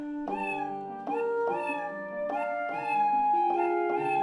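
Several drawn-out cat meows follow one another in a tonal, almost musical sequence, clear and close with no other sounds.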